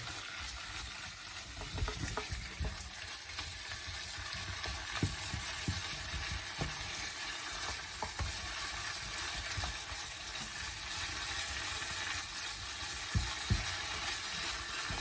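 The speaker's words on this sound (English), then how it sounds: "So, cooking away, add your tomato puree." Tomato puree sizzles in a frying chicken tikka masala sauce over high heat, a steady crackling hiss with occasional stirring clicks, fairly faint and without talk.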